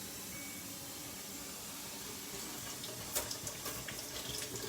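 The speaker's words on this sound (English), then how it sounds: "I'm going to wash my cilantro first." Tap water runs steadily into a sink while cilantro is washed, a constant close hiss with a few faint clatters and splashes toward the end.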